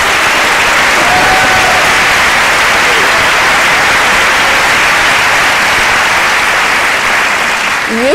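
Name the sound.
audience applauding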